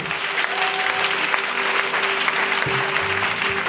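A church congregation at a Sunday service claps steadily for a few seconds, a dense roomful of hands applauding with a faint sustained tone beneath.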